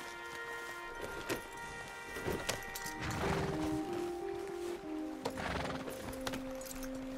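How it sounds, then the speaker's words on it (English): Horses in the Red Dead Redemption 2 video game, with hoof clip-clops and a neigh or whinny over a steady ambient bed, moderately close. "You could grab those horses if you want."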